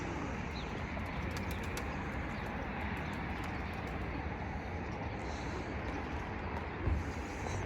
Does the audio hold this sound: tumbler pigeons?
yes